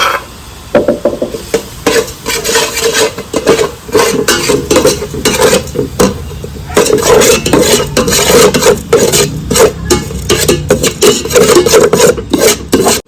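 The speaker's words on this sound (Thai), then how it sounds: "เรามาคั่วเครื่องให้หอมก่อน" Dry-roasting Thai curry paste ingredients for a Pak Kyo-style chili paste in a pan, heard as continuous close scraping, rasping and stirring with dense gritty friction and irregular bursts, no talking.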